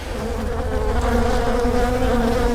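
Honey bees in a well-populated hive make a loud, continuous, close-up buzzing drone that holds steady throughout with no pauses.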